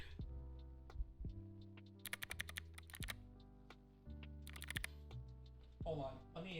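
Clicky mechanical computer keyboard typed in short bursts of sharp clicks, close and fairly quiet, over a soft tonal background hum.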